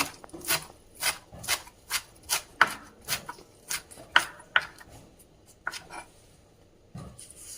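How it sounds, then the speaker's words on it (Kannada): A knife chops coriander leaves finely on a board in quick, evenly spaced crisp strikes, about a dozen of them, close and fairly quiet, with no talking. "ನಂತರ ಕೊತ್ತಂಬರಿ ಸೊಪ್ಪನ್ನು ಸಣ್ಣದಾಗಿ ಕಟ್ ಮಾಡ್ಕೊಳ್ಳೋಣ"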